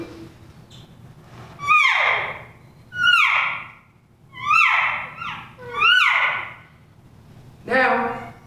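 Imitated cow elk calls, a series of five mewing, descending whistled squeals spaced about a second apart, close and loud over low room murmur; a voice produces the calls.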